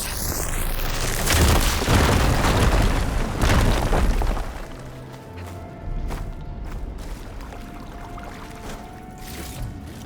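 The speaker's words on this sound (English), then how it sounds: "Should be able to blow up that fire gleam." A fire gleam crystal blown apart in Horizon Forbidden West lets off a loud, rumbling boom and sustained burst, with heavy debris and crackle over the first few seconds. A quieter ambient rumble with scattered small hits follows.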